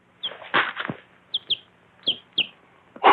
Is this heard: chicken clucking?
yes